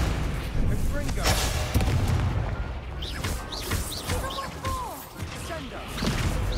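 A Confringo fire spell blasts in Hogwarts Legacy on PS5, with booming, crackling bursts over steady game sound and voices.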